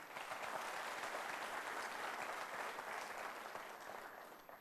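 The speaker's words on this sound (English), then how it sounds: "Give a good round of applause." A crowd applauds steadily, a dense wash of clapping hands that stays loud throughout and tapers off slightly near the end.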